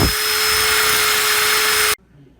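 A power drill spinning a wad of steel wool inside the bushing bore of a Dodge Ram 4x4 control arm, a close, steady high whine that cuts off abruptly, leaving quiet.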